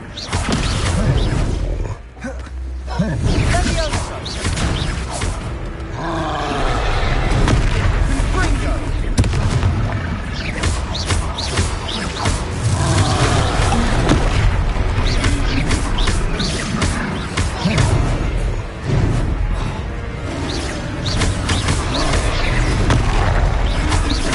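Confringo spell explosions go off repeatedly in the video game Hogwarts Legacy during a combat fight, loud booming blasts mixed with dense clashing game effects and occasional voices.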